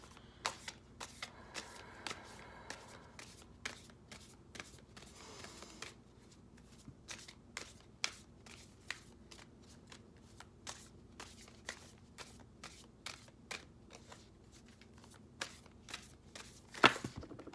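Oracle cards are shuffled by hand in a quiet room, giving a long run of crisp, irregular card riffles and taps, close and fairly soft, with no speech.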